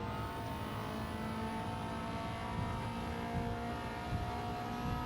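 Subaru Impreza WRX STI blobeye engine in Gran Turismo 7 on Tokyo Expressway, a steady droning hum held under light throttle with a constant high whine, continuous and fairly loud with no talk.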